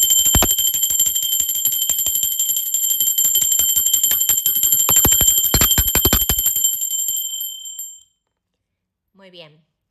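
A bright, continuous metallic bell rings loudly for several seconds, then cuts off, followed by a brief faint sound after a pause.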